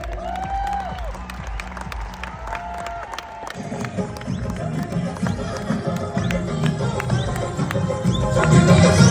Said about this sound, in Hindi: बहुत बहुत तालियां होनी चाहिए